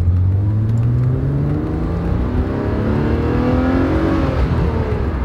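A small car with German Bosch fuel injection accelerates hard on a sunny drive, its engine note rising steadily through the gears, loud and close with no talking.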